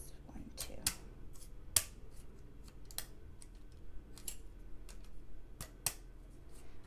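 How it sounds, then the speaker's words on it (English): Checkout scissors snipping material while crafting a miniature cone-shaped cape and dress, with sharp close clicks at irregular intervals over a faint background hiss and no talking. "checkout scissors for crafting"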